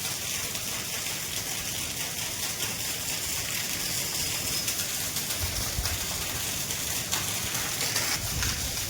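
Unseasonal heavy rain pours down outside shops facing a market yard, a steady, dense hiss that runs unbroken from start to finish with no voices.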